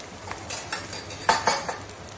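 A wooden spatula stirs onion and ginger-garlic paste in a kadai for mutton curry, giving soft scrapes and a few clinks against the metal over a low sizzling hiss, with no voices.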